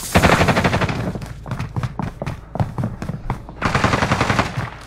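Sustained automatic machine gun fire in Call of Duty: Modern Warfare, loud rapid bursts with brief gaps, dense at the start and end and choppier in the middle.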